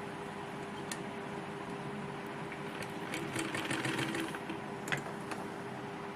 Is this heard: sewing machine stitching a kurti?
yes